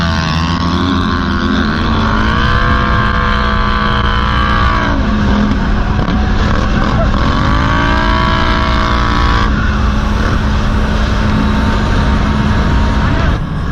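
Two off-road quads, a Can-Am 450XMR and a big Polaris Scrambler, race off the line with loud continuous engine drone, pitch climbing through repeated gear shifts, close and steady throughout while someone speaks over it.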